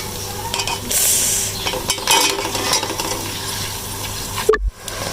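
Beef keema frying in a pan with ginger garlic paste, with a steady sizzle and scraping stir strokes, close and loud, and a brief clunk near the end.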